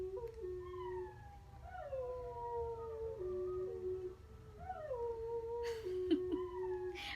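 Dogs howling as a train passes, long wavering howls rising and falling for several seconds over a low rumbling train, with short yips and whimpers and a brief clatter near the end.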